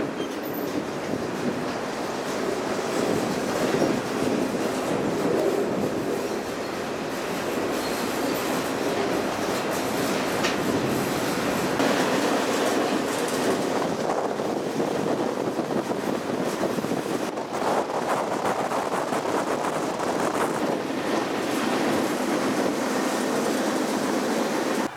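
A freight train rolls through Canada near Swift Current, Saskatchewan, in a loud, continuous rumble of wheels and rattling cars with periodic clacks and metallic squeals, heard up close from aboard with no talking.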